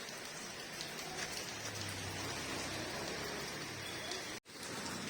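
Evening rain falls in a steady, even hiss of drops on surfaces, fairly faint and unbroken apart from a brief cut near the end, with no one talking.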